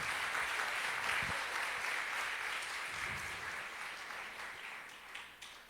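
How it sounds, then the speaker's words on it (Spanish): Church congregation at an evening service applauding, a broad sustained clapping wash at moderate distance that slowly fades over several seconds, with no speech over it. "Un aplauso."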